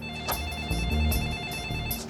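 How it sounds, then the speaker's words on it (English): A telephone rings with a loud, rapid trilling bell that repeats over a couple of seconds, set against a low musical background. "And now we get a phone call that changes everything."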